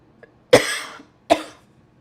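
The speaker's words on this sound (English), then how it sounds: "Excuse the coughing." A person with asthma coughs twice, each a sharp, close, loud burst trailing off quickly, the pair spaced under a second apart in an otherwise quiet room.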